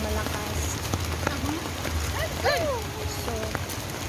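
Heavy rain falls in Fort Canning Park, Singapore, a constant dense hiss of drops on surfaces, with scattered bird chirps and people talking through the downpour.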